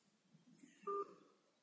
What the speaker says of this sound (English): Let's give him a call.